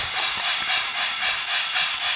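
A steam train hisses in a continuous loud, broadband rush of escaping steam that pulses gently and never lets up across the short stretch, with no other sound standing out.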